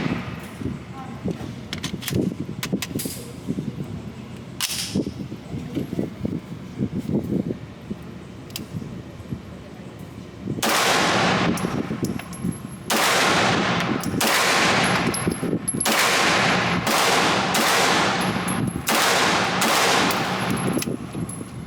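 A Springfield Kuna carbine fires a string of sharp, loud shots, sparse at first and then about eight rapid reports in close succession, with people talking in between.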